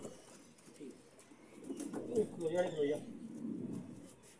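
Pigeons cooing softly, a few rounded coos rising near the middle, with someone talking over them in a home breeder's loft.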